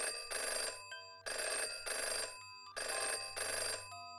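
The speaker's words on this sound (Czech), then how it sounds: "Hovor byl přijat po několika zazvoněních." An old-style telephone bell rings in three long bursts separated by short pauses, loud and close, with no one speaking.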